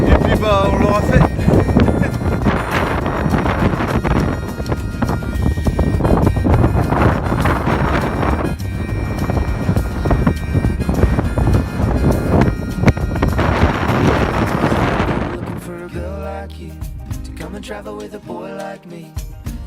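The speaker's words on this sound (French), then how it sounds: "Il y a un vent de fou, il y a un brouillard de malade." Strong wind batters the microphone on a foggy mountain, a loud, roaring, gusting rush that blasts continuously for about fifteen seconds before dropping away abruptly into quieter muffled sounds.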